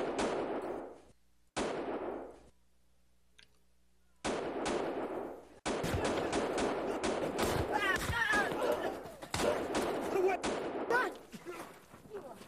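Gunshots in the Mad Dog McCree video game ring out as a series of sharp blasts, some isolated and others in quick clusters, loud and close, with stretches of near silence between early shots and voices talking over later ones.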